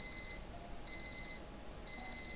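An alarm clock in the video game Lullaby For an Electric Toaster rings in three repeating, evenly spaced bursts of high electronic beeping, clear and alone.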